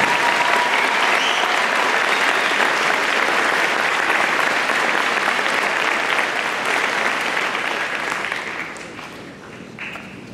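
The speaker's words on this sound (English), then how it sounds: "Let's have a round of applause for our" Dense, steady applause fills a high school gymnasium during a graduation ceremony, a large crowd clapping continuously before it gradually thins and fades near the end.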